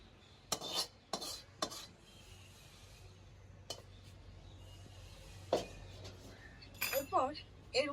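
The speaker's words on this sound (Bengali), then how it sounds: "একটু পাত্রে আমি ওটাকে ভালো করে ঢেলে নেব।" Fried eggplant curry is scraped and spooned from a wok into a dish, giving several sharp metallic clinks and scrapes of utensil on pan, spaced out over a quiet low hum.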